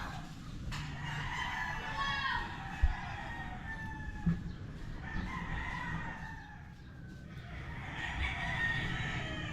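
Chickens roam a backyard chili garden: repeated rooster crows and scattered clucks at moderate distance rise over rustling outdoor noise, with a few sharp knocks in between.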